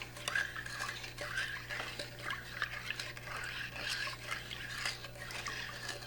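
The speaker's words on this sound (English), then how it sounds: "First, I'm going to add the milk and the sugar. I'm just going to mix them well." Milk and sugar being mixed in a large mixing bowl, with steady clinking and scraping of a utensil against the bowl over a constant low hum.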